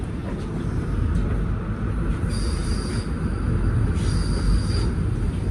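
Interior ride on a Kawasaki M8 electric train along the Harlem Line: a continuous low rumble of wheels on rails with rattling, plus thin high-pitched squeals from the wheels coming and going, close and steady throughout.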